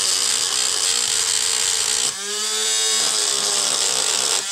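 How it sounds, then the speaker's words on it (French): Power sander working the edges of a homemade resin palette, a steady loud whine that dips briefly mid-way as the tool is tilted and pressed, then resumes, with no talking. "Voilà, on vient poncer les bords."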